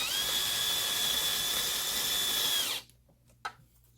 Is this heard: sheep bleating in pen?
no